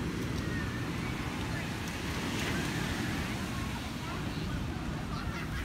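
Rough, choppy ocean waves at Virginia Beach, a constant low rushing wash with wind buffeting the microphone, steady and fairly loud throughout.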